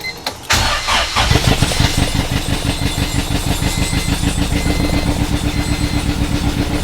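A Honda Civic with a swapped B-series engine cranks and catches, then runs with a loud, rough, pulsing idle close by.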